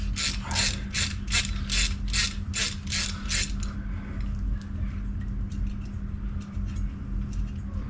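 Ratchet wrench rocking a bolt back and forth on a seized 383 engine during teardown, with a series of about seven evenly spaced loud clicking bursts followed by quieter workshop noise, close up and without talking.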